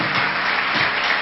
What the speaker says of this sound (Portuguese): Uma salva de palmas para que dê tempo das pessoas que estão andando sentarem.